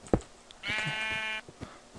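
A sheep in the video game Minecraft lets out a single drawn-out bleat among soft clicks and light game noises, with no talking.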